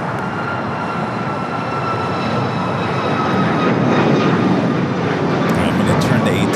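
A jet airliner taking off from runway 25 right at LAX, a loud, steady, broadband engine roar that swells slightly as it goes, with radio voices talking under it.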